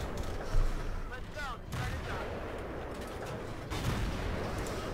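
A British FV4202 Tier 10 medium tank gun in World of Tanks fires amid a rumbling battle din, with a couple of heavy booms and a sharp crack near the end, under low game noise.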